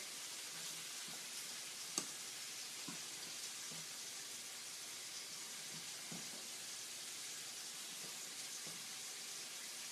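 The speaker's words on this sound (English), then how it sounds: "We've added our shrimp to our pan." Shrimp sizzle and fry steadily in a hot pan, a soft continuous crackle with a few faint clicks and stirring taps, and no one speaking.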